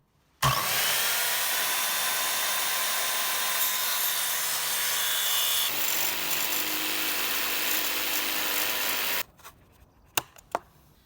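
Vinyl flooring gets trimmed inside a Sprinter van conversion by a loud, continuous power tool that grinds and rasps for about nine seconds, changes tone partway through, then cuts off, leaving a few sharp clicks and knocks.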